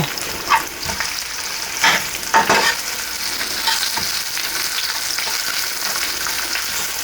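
Half of the onions fry in hot oil in a pan, making a loud continuous close sizzle with a few sharp stirring scrapes early on, and no voices.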